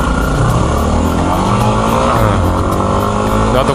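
A stock Yamaha WR250R motorcycle engine revs loud and close, its high-pitched racing-style whine holding steady and then climbing higher, continuous throughout.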